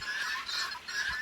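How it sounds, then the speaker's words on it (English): Guinea fowl calling outdoors on a farm where chickens and geese are also kept, giving harsh repeated cries that come in two bursts with a short gap between them, moderately distant. "So that's the noise of the guinea fowl."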